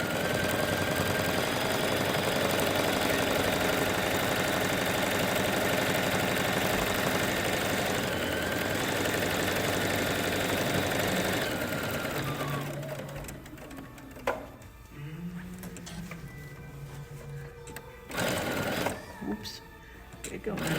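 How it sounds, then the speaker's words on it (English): Sewing machine top stitching around a stabilized Kyoto quilted bag runs steadily for about twelve seconds with a fast, even mechanical whir, then stops, leaving quieter handling noises and faint room sound. "So I'm gonna go ahead and just top stitch this all the way around"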